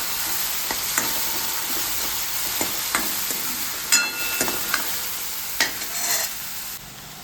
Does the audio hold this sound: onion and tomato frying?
yes